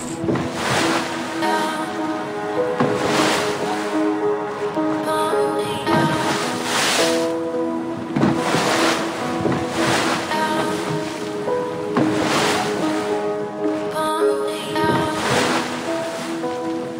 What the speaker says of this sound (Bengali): পাট্রাতু ভ্যালিতে আমরা শিকারা রাইড করছি, দারুণ লাগছে শিকারা রাইডটা